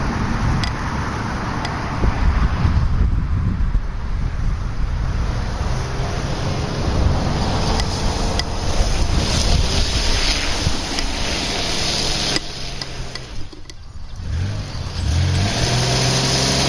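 A lawnmower fitted with tank tracks churns steadily through mud, its engine droning loud and close without letup, the broadband rumble dipping briefly near the end.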